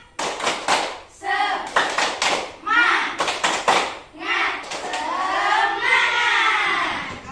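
A class of schoolchildren performs the tepuk semangat spirit clap in an Indonesian elementary classroom, sharp bursts of rhythmic clapping alternating with loud chanted shouts from the group.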